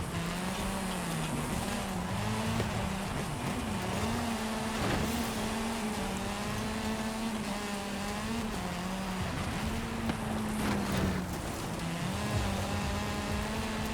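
A '91 Ford Escort Group A rally car racing in Forza Horizon 5: the engine drones steadily at high revs, rising and dipping through gear changes and lifts, with tire noise and occasional thumps, no speech.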